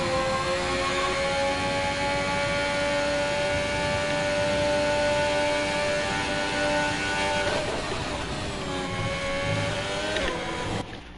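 A Formula 1 car engine in the F1 2021 video game drones loudly and steadily at high revs, the pitch holding level, then shifting and dropping near the end as the car brakes.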